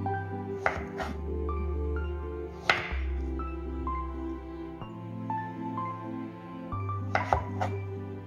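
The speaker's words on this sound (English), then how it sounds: "Slice it over there, slice it over there, slice it over there." Knife cutting zucchini on a cutting board during a kitchen cooking lesson, a few sharp chopping knocks spread among clinks and ringing pan or dish tones, fairly close.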